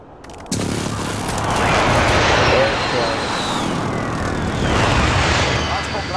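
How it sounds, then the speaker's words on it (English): Grenade blast in Call of Duty: Modern Warfare: a sharp, loud crack opens into a long rumbling roar that swells, fades and surges again, with a voice talking over it. "Somebody just threw a grenade."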